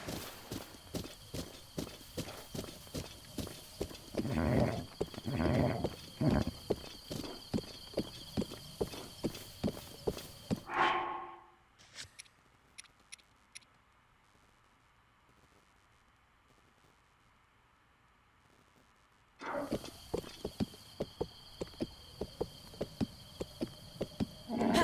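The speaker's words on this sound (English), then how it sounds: "It's not that I'm that poor at riding the horse" Horse hooves clip-clopping at a steady trot while riding in The Legend of Zelda: Breath of the Wild, a dense rhythmic patter that cuts out into near silence midway, then resumes.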